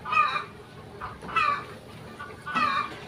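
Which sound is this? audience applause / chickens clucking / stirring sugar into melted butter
chickens clucking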